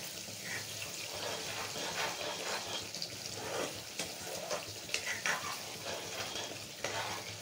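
Cream (malai) cooks down into homemade ghee, browning in a pan with a dense, crackling sizzle and bubbling that rise and fall steadily, along with occasional sharper pops and stirring scrapes.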